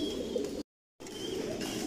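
Racing pigeons of a Belgian bloodline give a low, continuous cooing murmur inside a loft, broken by a brief silent gap.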